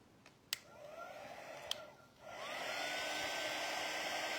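A handheld heat tool or dryer whirs steadily to dry ink on a craft project, starting softly after a couple of sharp clicks, then rising to a louder, even blowing hiss that carries on to the end.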